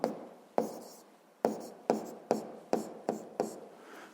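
Pen writing on paper during a 7th-grade physics problem on force and pressure, eight crisp scratching strokes in an uneven rhythm, close up and alone without speech.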